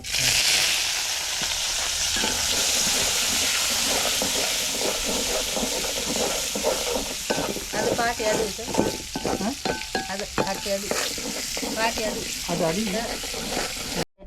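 Garlic, curry leaves, tomato and onions fry in a pan in a Sri Lankan home kitchen, a steady loud sizzle and hiss running throughout with scraping stir strokes and light chatter in the background.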